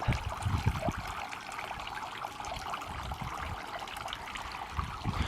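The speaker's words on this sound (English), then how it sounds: "A water fountain is going with the little tiny ceramic fantail goldfish and the little froggy at the top." A small ceramic garden water fountain topped with fantail goldfish and a little frog figure trickles and splashes steadily and continuously, a soft even flow of water heard alone without talking.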